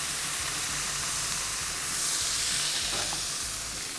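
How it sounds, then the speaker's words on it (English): Stir-fry vegetables sizzle and steam on a Blackstone griddle after a squirt of water, a dense, steady hiss filling the foreground with faint stirring scrapes underneath. "Might squirt a little bit of water on them, just to get them steaming a little bit."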